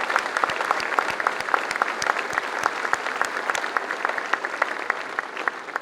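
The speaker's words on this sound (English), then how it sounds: "if you would not mind just giving a round of applause for Mrs." An audience at a military leadership series event claps steadily, individual sharp claps standing out against a continuous bed of applause.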